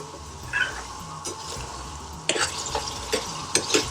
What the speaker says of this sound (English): Turn all that in, and you want to cook this for about 5 minutes to soften the chickpeas through.